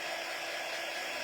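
A heat tool blowing hot air to dry heat-set paint gives off a steady, even rushing hiss, close and unbroken, with no voices.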